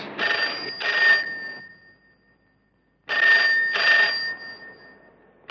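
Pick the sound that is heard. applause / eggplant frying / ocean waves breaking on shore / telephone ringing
telephone ringing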